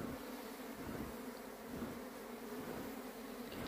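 Honey bees buzz around a hive while it is gently smoked, a dense, steady hum of many insects close by, continuous and even without pauses, with no talk.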